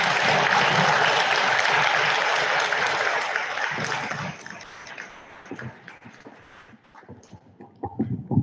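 An audience applauds at a school Christmas concert for the eighth graders. The clapping is loud and dense at first, then thins to scattered claps and fades into quiet room noise.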